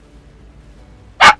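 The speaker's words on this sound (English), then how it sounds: "Sorry about the dog." A puppy indoors lets out a single sharp, loud bark near the end, after a stretch of quiet room tone.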